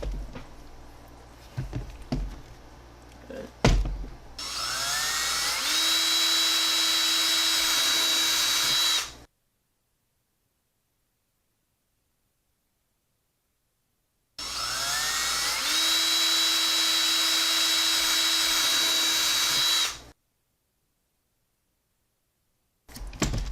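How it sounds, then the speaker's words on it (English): A power drill with a 1/8 inch bit whines steadily in two long bursts separated by silence, drilling centers in a hard case, loud and close, with a few knocks beforehand. "we're going to use the 1/8 inch drill to drill each of the centers"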